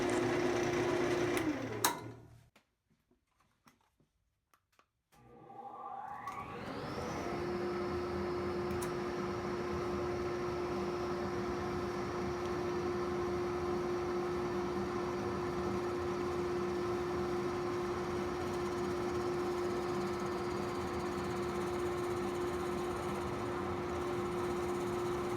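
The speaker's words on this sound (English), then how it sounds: "I'll drill a hole with a Jacob's chuck" A lathe runs with a Jacob's chuck drilling into a wooden chair spindle: a short burst of noise, a near-silent pause, then a rising whine that settles into a loud, steady motor hum with a constant tone.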